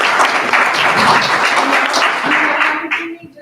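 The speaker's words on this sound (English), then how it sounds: "Please give a round of applause for" An audience at a summer speaker series talk on offshore wind applauds steadily at the end of a session. The clapping is dense and moderately loud and fades out near the end.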